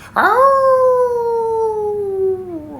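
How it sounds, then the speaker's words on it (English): Wolf howl, one long sustained note that rises sharply at the start, then glides slowly downward and fades, loud and close with no talking. "The other sat down and howled."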